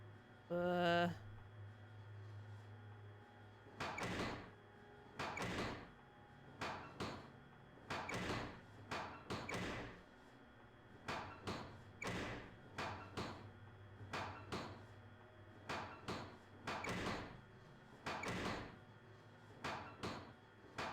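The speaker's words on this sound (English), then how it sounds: "Sound of sawing." Sawing in the Nancy Drew game Treasure in the Royal Tower: after a brief tone, a steady run of short, rasping strokes repeats in an even back-and-forth rhythm for most of the stretch, fairly close and alone.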